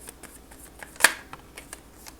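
Rapid riffling of playing cards being shuffled, a quick flurry of crisp flicks with one sharper snap in the middle, close and clear.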